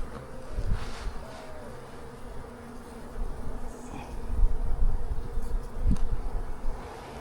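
Honeybees buzz around an open hive during maintenance, a dense steady hum of many insects close by, with occasional louder passes near the microphone.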